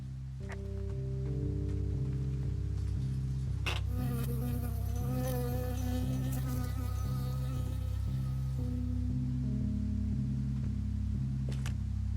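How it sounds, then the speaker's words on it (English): A bee buzzing in Firewatch, a close, continuous insect drone over a repeating low pulse, swelling in the middle of the passage. "I got stung by a bee."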